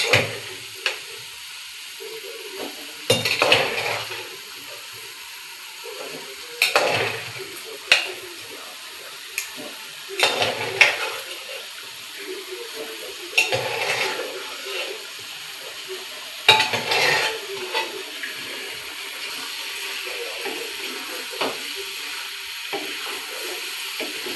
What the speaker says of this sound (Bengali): এই সেদ্ধ করা আলুগুলো দিয়ে ভালো করে কষিয়ে নেব।